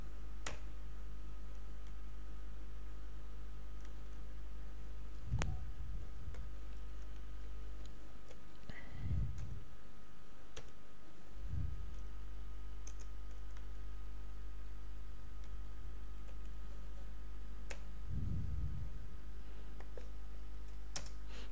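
Java code being typed on a computer keyboard: sparse, quiet key clicks scattered over a low electrical hum, with a few soft low thumps in between.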